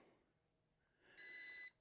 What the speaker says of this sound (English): We hear the solid beep.